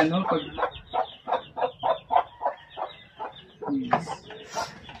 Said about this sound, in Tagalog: kasi may mga manok, ang ingay kasi sa tenga, masakit sa tenga